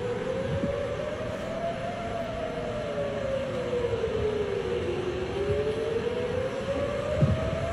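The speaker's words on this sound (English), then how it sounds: "you hear a siren, so you know you've got 15 seconds to get your kids to safety, to shelter" An air raid warning siren wails across the Golan Heights during wartime in Israel, a single long tone slowly rising and falling over steady background noise, heard from a distance with no talking.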